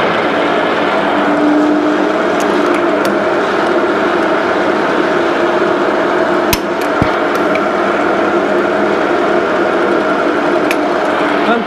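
A metalworking machine running at a spindle speed of 650 with a feed of 100 mm, producing a loud, steady mechanical hum with a couple of sharp clicks partway through, no talk.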